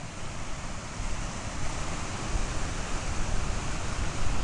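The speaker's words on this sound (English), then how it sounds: "There's the waterfall." Steady broadband rushing of falling water, a constant roar heard from some distance with no voices.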